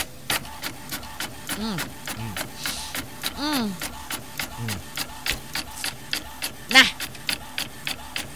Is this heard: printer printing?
yes